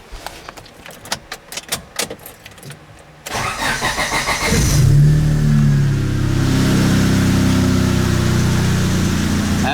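A turbocharged Honda Civic engine on Microsquirt fuel-only control cranks and catches, then settles into a loud, steady idle close by, after some clicking and metallic handling sounds.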